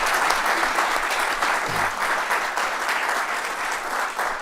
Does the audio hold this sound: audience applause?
yes